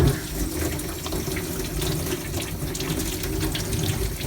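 Tap water runs steadily into a sink while soil is rinsed off freshly dug sweet potatoes, a continuous close splashing rush at fairly high level with no talking.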